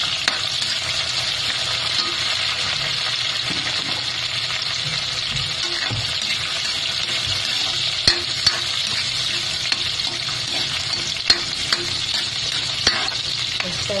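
Tomatoes go into a hot pan for Filipino adobong talong (eggplant adobo), giving a steady, close frying sizzle throughout, with a few light clicks of stirring utensils and no talk.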